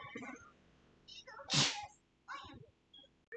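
A single sharp sneeze bursts out mid-clip, close and loud, with faint rustling and murmurs before and after.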